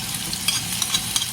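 Chili sambal sizzles in a little oil in a hot wok, a steady close crackle with faint stirring scrapes throughout.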